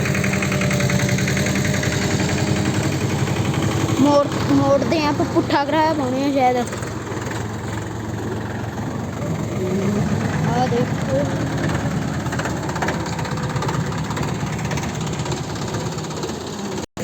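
A tractor engine idles with a low continuous rumble throughout, while people talk over it.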